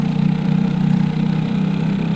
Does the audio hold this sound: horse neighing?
no